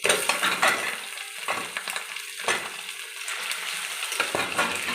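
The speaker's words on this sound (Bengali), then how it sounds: "এরপরে ধুয়ে রাখা চিকেনটা দিয়ে দিলাম।" Washed chicken pieces going into onions browned in hot oil, a burst of sizzling with several stirring clatters and scrapes from a spoon against the pan, close and fairly loud, no voices.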